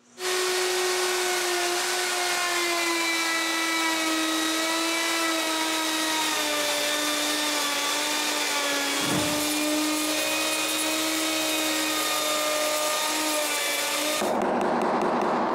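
A power tool whines steadily as it cuts grooves into a big wooden door frame part, a loud continuous tone that sags slightly under load and briefly dips partway through before a rougher burst at the end.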